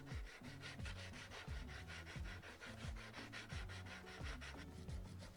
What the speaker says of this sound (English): Then I gave them both a sanding down making all the edges smooth